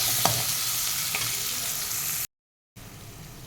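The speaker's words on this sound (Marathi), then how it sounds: "मिरच्या कढीपत्ता घालून आपण हे परतून घेऊया" Green chillies, onion and curry leaves sizzle and crackle as they are stirred in a hot pan, loud and close, with a brief scrape near the start, then a short dead gap before the frying resumes.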